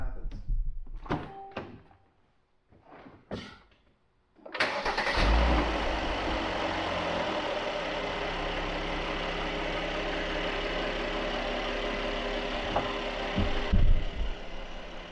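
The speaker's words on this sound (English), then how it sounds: "Now let's try starting the car." A few clicks and handling noises come first, then a car boosted by a Topdon JS2000 jump pack cranks and fires up, settling into a steady, close idle.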